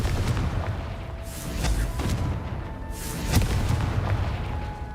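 Confringo fire spell from the video game Hogwarts Legacy, several dull booming blasts and crackling bursts spaced a second or so apart over a low rumbling game soundscape.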